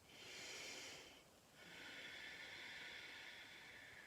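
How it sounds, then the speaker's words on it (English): During a children's yoga session, a deep breath is drawn in and let out, with two long soft airy whooshes and a brief pause between them, close and quiet. "I'm going to take a breath in and a breath out"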